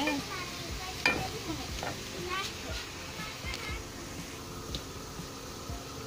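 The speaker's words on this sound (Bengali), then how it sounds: "দেখতে পাচ্ছেন ভাজা হয়ে যাচ্ছে।" Salted chicken roast pieces frying in oil, a low steady sizzle with several scraping, clattering stirs of a utensil, close but fairly quiet.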